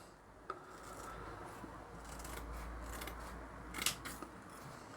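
Scissors cut through a rough scouring pad for tabletop wargaming terrain hedges, a scratchy, rasping crunch, close and quiet, with a few sharp snips.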